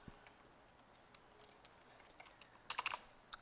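Fingers typing on a computer keyboard while building a PHP website, soft, close clicks pattering irregularly before a brief burst of quicker, louder keystrokes near the end, with no voices.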